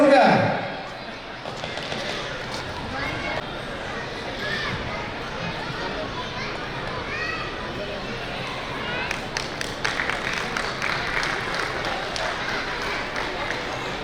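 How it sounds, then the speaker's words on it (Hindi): Audience applause at a Meena community gathering and convention in Kutch, a crowd clapping in scattered, building bursts, loudest toward the end, heard at a distance under a noisy hall. "तालियां बजाइए"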